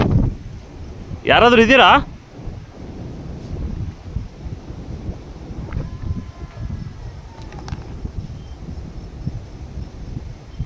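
Wind gusts at night near a dam, a steady low rumble buffeting the microphone for the whole stretch, with a person calling out briefly near the start.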